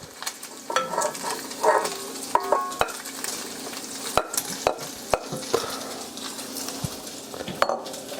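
Bacon frying in a pan, a steady sizzle broken by clinks and stirring scrapes of utensils against cookware, with no talking.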